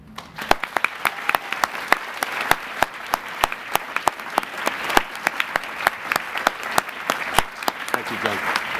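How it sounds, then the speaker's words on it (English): Audience applause at a literary conference on novels and current affairs, a dense, steady round of clapping with sharp individual claps standing out, sustained and fairly close throughout. "you will join me in giving John, and then when he arrives, Jim, a big round of applause"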